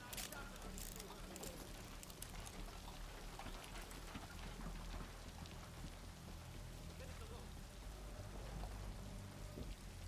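Steady rain pours down in a Call of Duty: Black Ops Cold War scene, a dense, even hiss with scattered patter and clicks that runs unbroken through the whole stretch.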